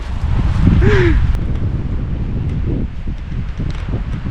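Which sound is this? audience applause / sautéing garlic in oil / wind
wind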